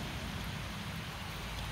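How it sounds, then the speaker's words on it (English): Rain falling steadily on a pike fishing trip, a soft, even patter with no talk and no breaks. "It is on and off today, this rain."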